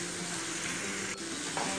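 Continuous hissing sizzle of sweet and spicy bagoong sautéing with tomatoes in a hot pan, with a couple of brief scraping stir sounds partway through and no talking.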